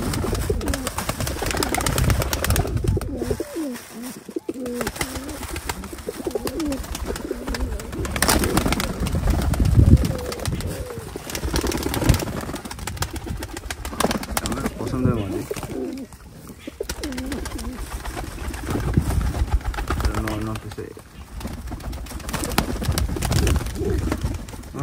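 Benares pigeons from Khulna cooing in a loft, repeated throaty coos running through a busy mix of nearby noise, with someone talking over them at times.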